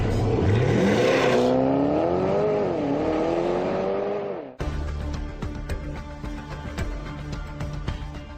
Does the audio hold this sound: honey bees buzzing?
no